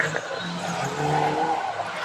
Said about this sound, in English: And a number of cars go crashing into the side.